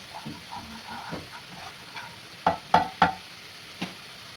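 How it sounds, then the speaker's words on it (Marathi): Masala spices frying in oil for chana chaat, a soft sizzle under a few louder stirring scrapes of a spoon against the pan, close up with no talking. "तेलामध्ये चांगला शिजून घ्यायचा आहे. त्याचा कच्चापणा दूर करून घ्यायचा आहे."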